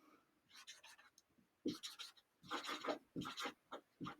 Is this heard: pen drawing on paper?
yes